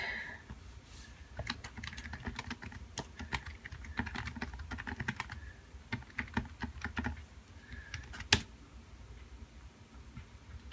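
Rapid typing on a computer keyboard, with irregular bursts of clicking keystrokes, close and fairly clear, and one sharper key clack near the end.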